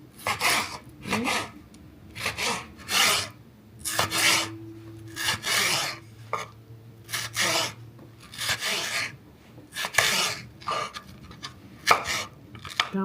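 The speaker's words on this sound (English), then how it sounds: "I'm gonna just chop these up into like little cubes." Bell peppers are chopped into little cubes with a knife on a cutting board; rhythmic bursts of close, crisp rasping cuts come in short repeated clusters, with a faint hum in the background.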